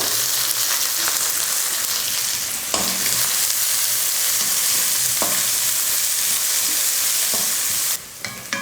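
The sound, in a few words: onions, garlic and green chilies frying in a pan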